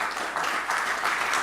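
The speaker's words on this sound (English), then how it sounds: "please give a round of applause for my rock star panel" A live audience claps steadily for three panelists walking onstage for a macro crypto economics panel at a streamed conference, a dense and even wash of applause with no break.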